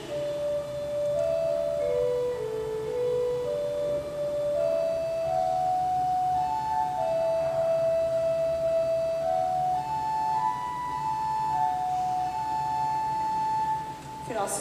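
A church pipe organ at St Mary plays the hymn Be Thou My Vision as a slow, sustained single melody line, each note held and gliding smoothly to the next over a soft, steady background.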